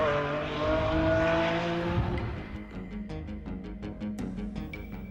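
A Ferrari Enzo sports car, its naturally aspirated 660-horsepower engine driving hard, holds a loud sustained roar that drops in pitch and turns into a rapid rhythmic pulsing as it changes pace, with no talk.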